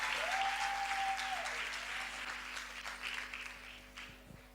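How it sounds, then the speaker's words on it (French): A conference crowd applauds the women, a dense steady clapping at moderate volume that gradually thins toward the end, with a faint tone running through it. "Est-ce que ce sont des applaudissements pour les femmes?"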